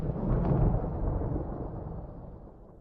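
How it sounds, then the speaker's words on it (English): A long rumble of thunder rolls through, loudest early then slowly fading into a low, deep grumble over nearly three seconds, with no voices. "Do you guys hear the thunder rolling?"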